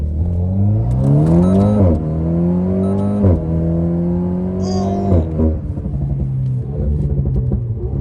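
A low Alpine sports car accelerates through the gears on a tuned stage, its engine note rising in several pulls with shifts in between, loud and close from inside the cabin, then easing off.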